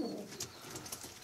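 A racing pigeon in a loft coos softly, a low throaty murmur heard close but faint, with light rustling around it.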